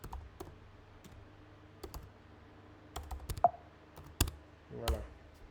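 Sparse, scattered keystrokes on a computer keyboard typing a Linux update command on Debian 12, quiet and close with a few louder clicks and a short burst near the end.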